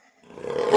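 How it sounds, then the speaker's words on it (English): A jaguar roar swells quickly from near silence into a loud, rough, close burst that is still building as it cuts off. "Jaguar."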